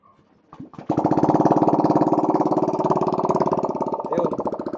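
A Yamaha Nmax V2 scooter under restoration cranks briefly, then catches and settles into a loud, steady, pulsing idle close by.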